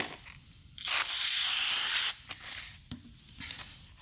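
Battery terminal cleaner sprayed onto a Toyota Matrix car battery in one steady, loud hiss of a bit over a second, followed by quieter clicks and handling noises.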